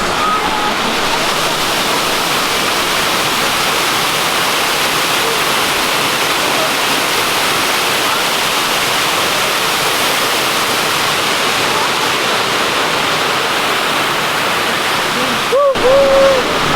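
A waterfall on the trails behind the Canada Pavilion in World Showcase roars as a constant broadband rush, loud and steady throughout, with a brief faint voice and a knock near the end.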